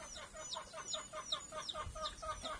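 Laying hens cluck in a steady, repeated rhythm while foraging on grass outdoors, the calls close and moderately loud over faint background noise.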